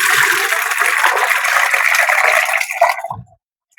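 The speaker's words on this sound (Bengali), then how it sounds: "তিন মগ পানি দিলাম।" Mug of water poured into goat feed, a close, steady splashing gush lasting about three seconds before stopping abruptly.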